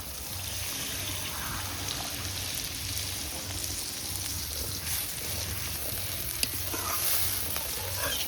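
Water is poured into sizzling fried spice paste for a fish curry, giving a close, steady hiss and bubbling sizzle with some stirring, along with faint background sounds.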